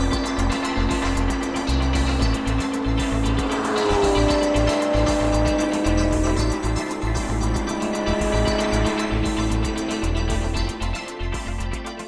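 A Porsche 911 Sport Classic runs hard with a loud, continuous engine roar and shifting pitch, tyres squealing and skidding throughout, close and alone with no talk.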